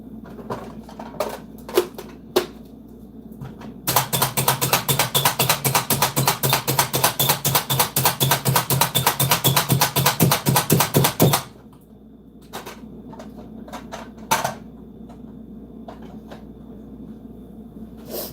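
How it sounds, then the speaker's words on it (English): A knife chops food on a cutting board in a fast, even run of sharp knocks lasting several seconds, close and loud, with a few scattered taps before and after. "we're going to cut it up a little bit more."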